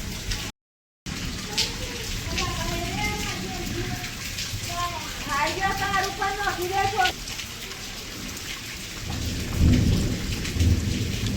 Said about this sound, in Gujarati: વરસાદ જોરદાર કાઢ્યા